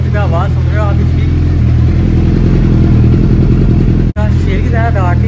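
A Suzuki Hayabusa superbike idles just after starting, a loud, close, steady engine rumble running under a man's speech from start to finish.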